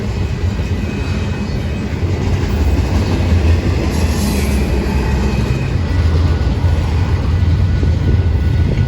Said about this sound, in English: Eastbound intermodal on track 2.